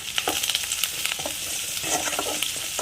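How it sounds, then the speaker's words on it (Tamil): Onions sautéing in a pan for mealmaker chukka, a close, busy sizzle with frequent stirring scrapes and clatter throughout. "வெங்காயம் பாருங்கள் நல்லா வதங்கிக்கிட்டு இருக்குது"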